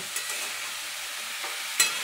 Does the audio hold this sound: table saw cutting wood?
no